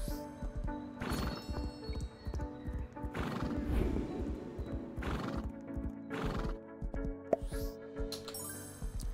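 A horse whinnies loudly several times over steady clip-clopping hooves at a gallop, with a busy game-like backdrop throughout, in a Roblox horse racing game.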